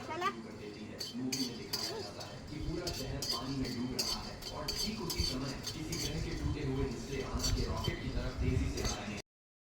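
Whole spices for garam masala, including chillies, coriander seeds and dried onion, being roasted and stirred in a pan, with steady scraping and metallic clinks of a utensil against the pan under ongoing conversation.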